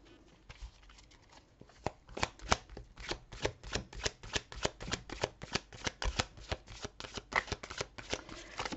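Tarot cards are shuffled and handled up close, with quick, rhythmic riffling snaps that grow denser and crisper as the shuffling continues, alone and fairly quiet.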